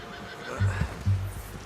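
A horse in the video game Red Dead Redemption 2 gives a loud, close neigh in two short snorting bursts.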